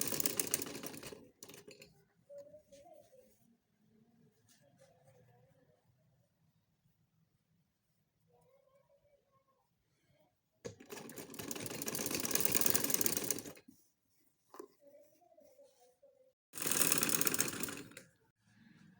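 A sewing machine stitching angrakha frock fabric runs in two loud, fast whirring bursts of about two seconds each. Quieter handling sounds and faint murmurs fill the gaps between them.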